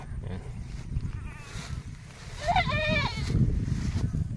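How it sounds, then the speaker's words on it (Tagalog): A goat bleats once, a wavering nasal cry, over a low rumbling outdoor background with some faint noise. "Ba may kaagaw si Milky sa damo mga kambing ni Tata Pabling."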